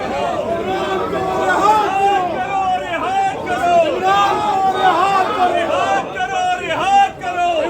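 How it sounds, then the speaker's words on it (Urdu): PTI members of the National Assembly protest inside Parliament House in Pakistan, a dense crowd of voices raising slogans together, loud and close, with continuous shouting and chatter throughout. "یہاں پہ قیدی نمبر 804 کے نعرے."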